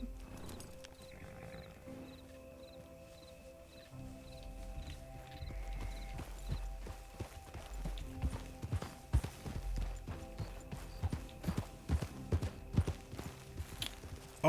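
Horses' hooves clip-clop in Red Dead Redemption 2, starting as faint, scattered thuds and growing into heavier, irregular hoofbeats that come closer over a soft ambient background.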